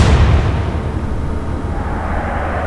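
A single naval gunfire shot in Atlantic Fleet, one loud deep boom that decays into a long rumbling tail with no voices.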